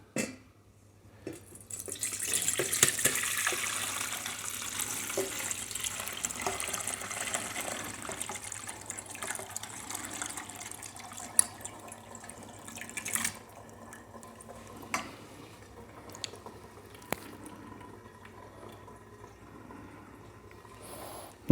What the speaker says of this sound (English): put them through a funnel with a strainer in it, and we're going to separate the fruit from the liquid